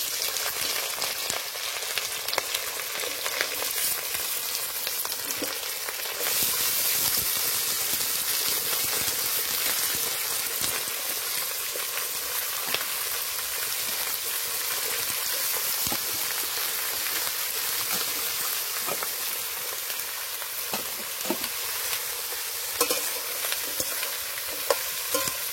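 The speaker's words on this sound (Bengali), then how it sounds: "তেল গরম হয়ে গেছে, এবার দিয়ে দেব এঁচড়গুলো।" Raw, unboiled jackfruit pieces fry in plenty of hot oil, a loud continuous sizzling hiss like heavy rain, with frequent crackles and stirring noises close by, no one talking.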